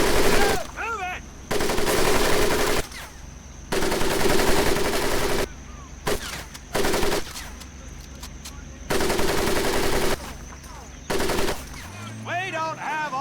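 Training-ground machine gun fire in Medal of Honor Pacific Assault rattles out in long sustained bursts broken by short pauses, loud and close, with a drill instructor's shouts faintly audible between bursts.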